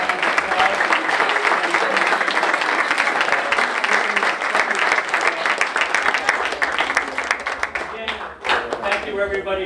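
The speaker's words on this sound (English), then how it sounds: "if we could give everybody a round of applause" A room full of people applauding, dense steady clapping that continues throughout with a few cheers near the end.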